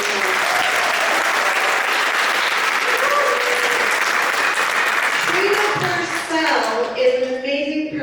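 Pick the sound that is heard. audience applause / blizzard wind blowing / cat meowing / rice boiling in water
audience applause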